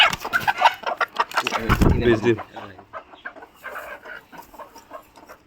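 Local hens cluck on a farm in Raozan, Chattogram, giving a few sharp squawks and short clucks near at hand, followed by quieter scattered clucking, as a person talks through parts of it.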